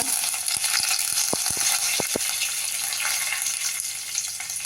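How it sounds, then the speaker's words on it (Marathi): Curry leaves crackle and sizzle in hot oil with mustard and cumin seeds over a low flame, a steady broadband fizz broken by a few sharp pops and clicks near the start. "त्यामध्ये कडीलिंबाची पाच सहा पानं घालूया"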